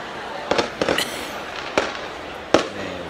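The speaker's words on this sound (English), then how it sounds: "Fireworks out here. Look at this." Fireworks burst outdoors in Palermo, Italy, with about five sharp cracking pops at uneven intervals over a constant background hiss, medium distance and fairly loud.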